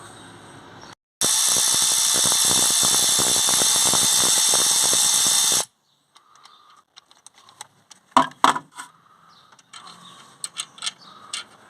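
A bolt on a BMW 530d alternator is spun loose with a power tool, making a loud, steady whirring buzz for about four seconds, followed by quieter metallic clinks and handling taps.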